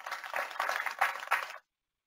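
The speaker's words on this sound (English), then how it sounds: "Please give a big round of applause to Bradley." A modest audience at an analytics meetup claps for a speaker, with a short burst of fairly close, crackling applause lasting about a second and a half, then abrupt silence.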